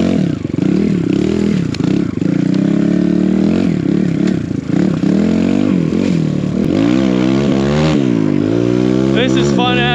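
A 4-stroke snow enduro bike's engine revs hard through rising and falling pitch sweeps, loud and close throughout, with a steady mechanical clatter beneath.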